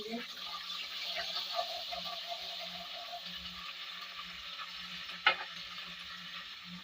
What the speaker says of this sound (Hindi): इसको फ्राई कर लीजिए।